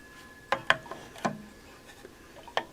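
Switch hooks on an old telephone clack in a handful of short, sharp mechanical clicks, spaced irregularly over a few seconds, faint and close with no voices.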